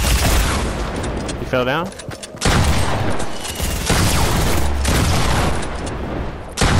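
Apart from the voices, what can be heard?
gunfire in a battle royale video game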